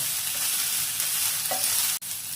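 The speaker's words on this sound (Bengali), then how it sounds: "আদা রসুন আর কাঁচা লঙ্কাটা একটু ভাজা ভাজা হয়ে গেছে" Ginger, garlic and green chilli fry in a pan for a Chinese-style chilli baby corn, giving a steady, close sizzle with stirring that breaks off for a split second near the end.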